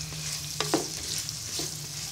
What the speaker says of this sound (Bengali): পেঁয়াজটা হালকা ভেজে দিব, খুব বেশি ভাজা যাবে না।